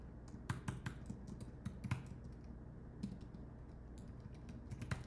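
Steady typing on a computer keyboard, soft, close key clicks with occasional sharper taps, running continuously without any voices.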